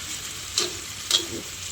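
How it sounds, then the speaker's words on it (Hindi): Chutney frying on a griddle after a little water is added, a steady hiss with two sharp sizzling bursts of spatter, close and alone without speech. "उसमें हल्का सा पानी डालूंगी, हल्का सा, तो ये तवे पे भून लेगी।"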